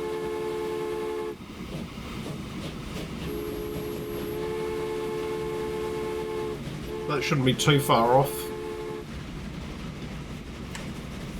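A train in the Transport Fever strategy game rolls along with a steady mechanical hum, then sounds a brief horn blast near the end, while someone speaks over it throughout.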